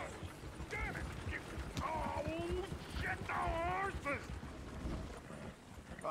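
Horse hooves clip-clop in Red Dead Redemption 2, a steady rhythmic plodding heard under voices talking over it.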